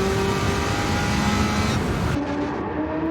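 A rear-wheel-drive V8 muscle car, a Chevrolet, roars loudly and steadily in a Gran Turismo 7 drag race, the engine note shifting and dropping in pitch partway through.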